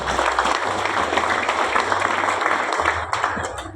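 An audience claps for an honoured guest at a school farewell ceremony, dense steady clapping from many hands that fades slightly toward the end, with a low hum underneath.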